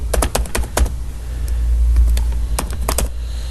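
Typing on a computer keyboard during a computer training lesson: quick clusters of sharp key clicks, a burst at the start and another near the end, close and distinct over low background hum.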